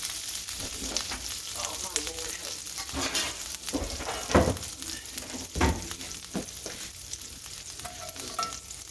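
Garlic roasting in oil in a pot on a stove over medium-low heat, giving a steady close sizzle with scattered clinks and stirring bumps and no one talking.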